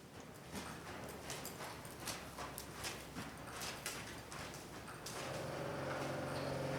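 A ridden horse's hooves clip-clop at a steady walking pace, a series of sharp distinct steps that cease after about five seconds, leaving a low steady hum.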